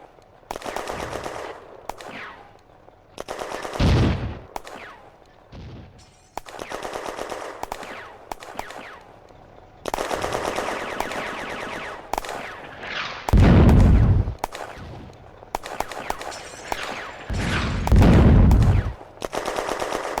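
Close, heavy machine-gun and rifle fire in a May 1940 battle game, in long repeated bursts with short gaps and several deep booming impacts.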